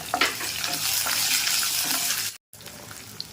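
Garlic cloves and dried red chilies frying in hot oil crackle and hiss close up, with a short stirring scrape, a brief silent gap near the end, and then the sizzle again.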